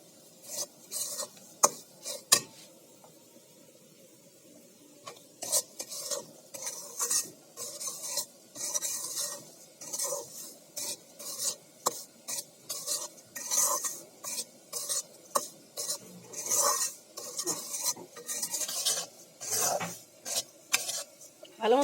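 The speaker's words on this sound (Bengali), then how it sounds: "সুজিটা ভালো মতো নেড়ে চেড়ে ভাজা ভাজা করে নেব।" Semolina is dry-roasted and stirred in a pan: after a quiet start, a spoon scrapes and rasps against the pan in repeated close strokes that keep a steady back-and-forth rhythm to the end.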